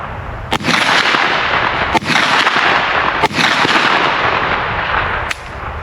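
Kel-Tec Sub2000 Gen 3 carbine shots at an outdoor shooting range: about five loud, sharp reports spaced roughly a second or more apart, each followed by heavy sustained roar, close to the microphone.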